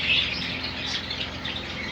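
Java sparrows, kept as breeding birds in an aviary, chirp and call continuously in a busy overlapping chorus, moderately close, with no voices.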